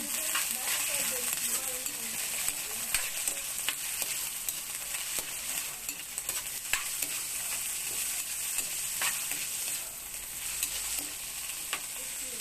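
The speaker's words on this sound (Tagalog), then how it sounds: "Igisa natin muna yung patay balunan hanggang sa mawala yung lansa niya guys." Chicken liver and gizzard sauté in a hot pan, a steady close sizzle with frequent scraping stirs of a spatula running throughout, no voices.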